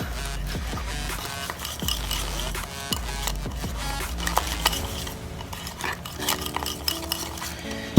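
A utensil stirs and scrapes around a bowl of Mountain Dew soda cupcake batter, rhythmic clinking and sloshing strokes up close, fairly loud and continuous.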